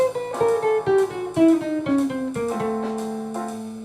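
Solo guitar runs a diminished scale lick, a quick string of clearly picked single notes stepping steadily downward, close and clean with no talking.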